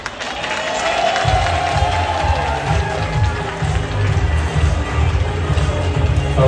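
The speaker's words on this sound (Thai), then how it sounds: "ขอเสียงปรบมือต้อนรับกับช่วงเรื่องผิวอย่างมั่นใจ" A stage-event crowd applauds and cheers to welcome a host, a sustained wash of clapping with a low rumble of amplified music or crowd noise underneath.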